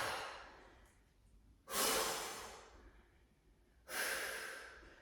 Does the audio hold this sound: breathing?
yes